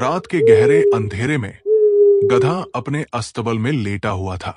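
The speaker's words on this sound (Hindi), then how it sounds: "दूर कहीं से उल्लू की रहस्यमयी आवाज गूंज रही थी।" Two drawn-out owl hoots ring at night beneath a steady narrating voice, each a smooth sustained tone lasting under a second, moderately loud and partly masked by the speech.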